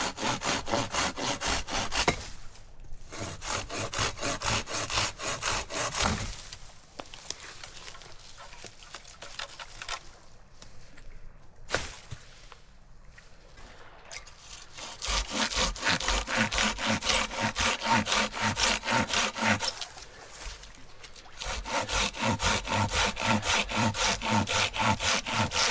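Cedar firewood being hand-sawn on a small island campsite in Maine, with long bursts of rhythmic back-and-forth saw strokes, close and loud, separated by short quiet pauses.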